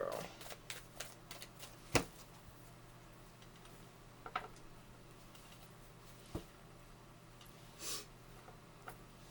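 Tarot cards being laid out and flipped onto a table, giving soft scattered ticks and slaps, with one sharper tap and a brief swish, over a steady low room hum.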